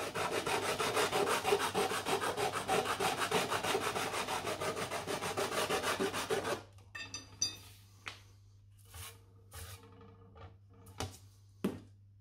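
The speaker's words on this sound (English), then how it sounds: "just take that edge and make it as straight as we can possibly get it just by doing this by hand" Flat hand file drawn along the edge of an aluminium checker plate, a dense steady rasping for about six seconds, then a few separate scraping strokes with short gaps between them.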